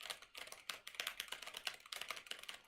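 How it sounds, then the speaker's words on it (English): Rapid, clattery keystrokes tap out in uneven bursts, loud and close, like typing on a mechanical keyboard. "I have a mechanical keyboard,"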